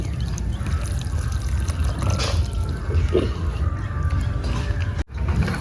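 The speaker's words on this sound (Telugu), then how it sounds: "ఇప్పుడు సరిపడా నీళ్లు పోసుకుందాం నీళ్లు సరిపడా పోద్దామండి కుడుములు ఉడకడానికి" Water pours steadily into a pot for steaming jaggery kudumulu dumplings, a continuous splashing trickle with broadband hiss, fairly close, with no talking.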